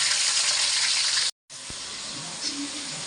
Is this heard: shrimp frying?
yes